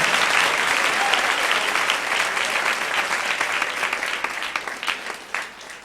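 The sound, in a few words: congregation applauding in church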